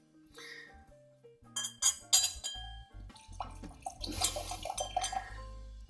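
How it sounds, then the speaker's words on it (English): Streaky Bay gin, a coastal Australian craft gin, glugs from its bottle into a glass, with clinks of glass and splashing liquid in bursts over a few seconds, close and fairly loud. "That is a very satisfying glug of the bottle."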